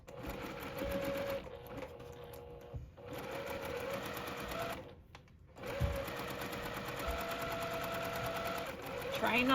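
A domestic sewing machine chain piecing a quilt block runs in fast, steady bursts of stitching, pausing briefly twice before resuming, with someone talking over the whirring motor.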